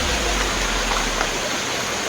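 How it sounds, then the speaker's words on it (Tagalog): Water gushes steadily from a large leaking hose, a loud continuous rushing hiss like a stream, unbroken for the whole span. "Malaking hose, tapos may tumatagas na tubig."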